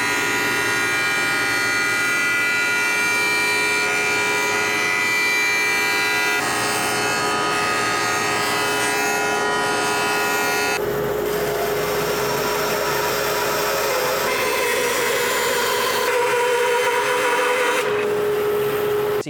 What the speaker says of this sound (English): let's head over to the jointer and the bandsaw and see if we can't make this into something a little bit more manageable